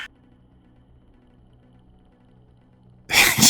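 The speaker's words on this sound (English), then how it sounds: "You hear a sneeze in the background" A single sudden sneeze bursts out loudly at the very end, following a few seconds of near silence with a faint low hum.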